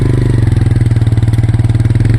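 A motorcycle engine runs steadily and loudly up close, its rapid pulsing throb continuous throughout with no voices.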